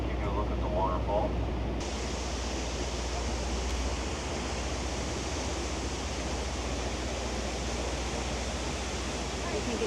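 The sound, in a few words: waterfall cascading down granite walls in Cataract Cove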